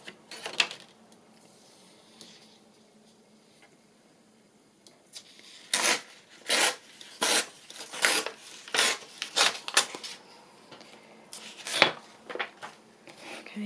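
Paper being torn by hand while making a handmade tag booklet, heard as a series of short, crisp ripping strokes close by, each separated by brief pauses, with no talk.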